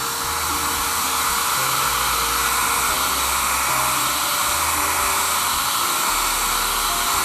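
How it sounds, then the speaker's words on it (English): A hair dryer runs steadily on high, heating cracked clear bra protective film on a 12-year-old car so it can be peeled off; a loud, constant airy whoosh with a low motor hum fills the whole stretch, with no talking. "So just turn your hair dryer on and start heating it."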